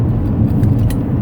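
A car drives over a shaky road with a steady low rumble and rattling jolts, loud and close inside the vehicle, with no voices.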